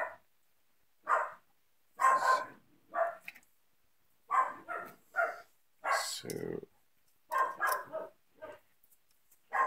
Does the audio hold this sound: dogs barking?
yes